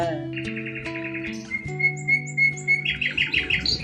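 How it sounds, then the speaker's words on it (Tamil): Birds squawk and chirp nearby on a quiet Sunday, with short bright calls repeating and thickening toward the end over a low steady hum. "பறவை சத்தம் கேக்குதா?"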